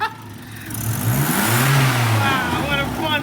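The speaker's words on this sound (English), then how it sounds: "Give it a brum brum." A car engine, just started with one turn of the key and carrying a slight exhaust leak, revs up loudly and close, rising into a sustained rasping roar before easing slightly.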